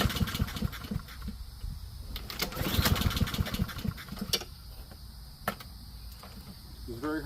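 A Honda HRR lawn mower running without its air filter, its small engine rough and labored through hard starting attempts, with irregular bursts and sharp clanks over a steady chugging rumble; an outdoor insect chirp sits faintly in the background.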